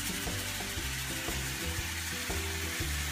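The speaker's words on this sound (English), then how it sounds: "these onions are cooking just beautifully" Onions seasoned with salt fry steadily in a pan, a dense continuous sizzle with occasional soft scrapes and bumps, close and alone with no talking.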